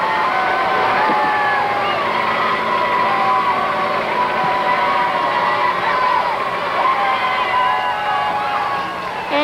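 A dense parade crowd at the Bacchus Parade in New Orleans cheers and shouts continuously, with children's high voices and whistling layered in a steady, loud roar throughout.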